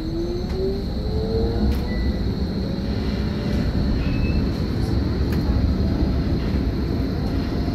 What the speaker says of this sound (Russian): Такая прогулка с трамвая по Берлину.